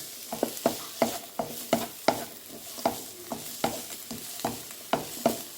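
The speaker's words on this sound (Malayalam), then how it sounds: "ആ ഉള്ളിയുടെയും ഇഞ്ചിയുടെയൊക്കെ പച്ചമണം മാറത്തക്ക രീതി നമുക്കൊന്ന് വഴറ്റിയെടുക്കാം" Onion, ginger and garlic sautéed in a pan for beetroot masala curry: a sizzle under about a dozen crisp, rhythmic stirring scrapes of the spoon, close and fairly loud, with no voices.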